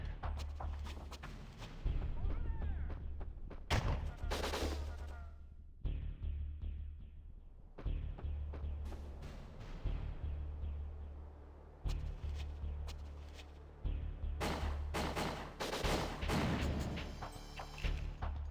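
Gunfire in an N64 shooter game, sharp loud bursts of shots and crashing blasts coming in clusters with short quiet gaps, close and punchy, with occasional thuds between volleys.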